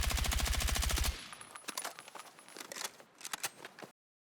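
Rapid automatic AR rifle fire in a video game, a dense burst for about a second, followed by scattered single and clustered shots as different muzzle attachments are tried, some sounding more muffled.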